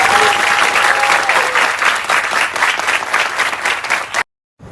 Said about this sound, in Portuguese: Salve de palmas para esses dois aqui